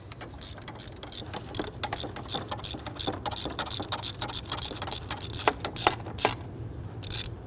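A ratchet on a stubby extension clicks in quick, steady bursts while loosening a 15mm bolt on a 4.7L V8 of a 1999-2004 Jeep Grand Cherokee during a valve cover gasket job. The clicking is close and continuous.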